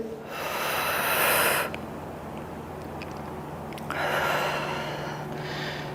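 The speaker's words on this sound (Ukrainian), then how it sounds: "І вдих, і на видих." Deep breaths taken during a yoga stretch for posture and back relaxation: two long, loud, close inhale-exhale rushes of air separated by a brief quieter pause.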